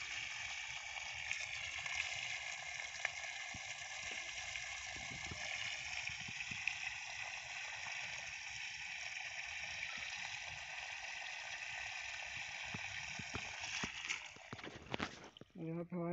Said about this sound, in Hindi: लगभग 1 इंची पानी दे रही है मोटर हमारी।